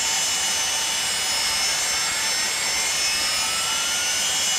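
A jet engine, engine number 1, spools up in a flight-simulator home cockpit: a steady, loud broadband roar with high whining tones that climb slowly, continuous throughout with no talk.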